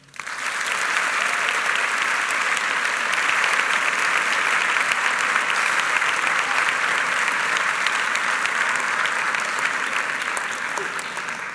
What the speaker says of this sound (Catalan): Per tots ells, un aplaudiment.